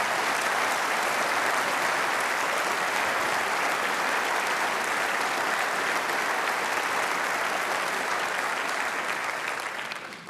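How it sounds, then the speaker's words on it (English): A large party conference audience in a hall gives sustained, dense applause for police and security staff, the clapping steady and full throughout before easing off at the very end. "Can we please have a huge round of applause?"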